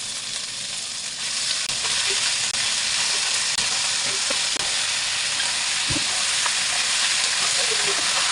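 Chicken pieces fry in their own rendered fat in a hot pan, producing a loud, steady sizzle and hiss that rises after the first second and continues unbroken, with occasional faint pops and clinks.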